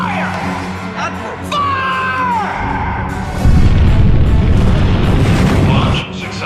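Trident missile launching and exploding in an action movie, heard as a loud rushing boom with a whooshing swell that holds strong for several seconds under a tense musical score.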